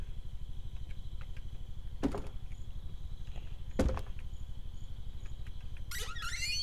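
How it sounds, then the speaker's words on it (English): Two sharp, hollow thuds of a door swinging shut in the Medieval Engineers game stand out about two seconds apart over a low, constant ambient hum, followed by a brief chirping flourish. "But tell you what, let's close this door."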